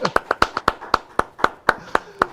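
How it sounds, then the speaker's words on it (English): A single person claps steadily in an otherwise quiet room during a virtual class's opening ceremony, about a dozen sharp, evenly spaced claps close to the microphone. "let's give a big round of applause to the class of"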